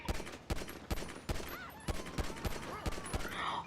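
Rapid gunfire in Grand Theft Auto V, a dense fusillade of sharp shots in quick irregular bursts, loud and close throughout with no speech.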